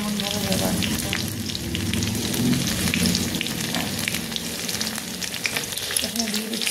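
Chopped ginger, garlic and two green chillies sizzle steadily in a hot pan, a dense continuous frying crackle that holds at a fairly loud level throughout with no talk.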